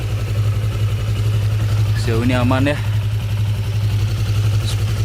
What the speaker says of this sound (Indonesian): Oke, ini motornya sudah saya hidupkan.